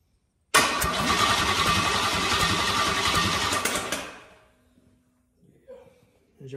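A small block Chevy engine cranks over loudly and steadily for about three and a half seconds, then dies away into quiet, with a few faint sounds afterward.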